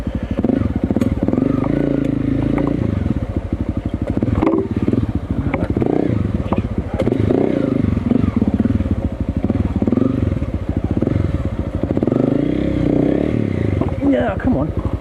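A motorcycle ridden slowly over rough ground at Pai, a steady loud engine drone with clattering and rattles throughout, while a rider talks over it.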